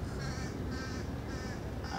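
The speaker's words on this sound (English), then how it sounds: "why would this bird decide to chirp right now next to me?" A bird close by, sounding like a crow, gives four evenly spaced harsh calls over a steady outdoor background hum, with no talk.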